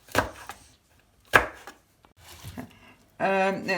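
Leeks being chopped with a knife for Afghan bolani: a few separate, close chopping knocks against a board, with brief talk toward the end.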